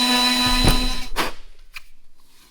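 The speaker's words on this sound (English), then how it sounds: "A carbide bit on a die grinder works super well." A die grinder with a carbide bit grinds down and flattens a plastic off-road console tray for a Ford Super Duty, a loud whining tone that winds down and stops, followed by a couple of quieter scraping touches.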